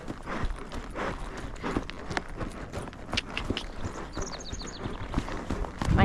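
Hooves of a ridden horse clip-clopping in a steady, rhythmic gait, close and clear, with faint rustling of tack and no talking.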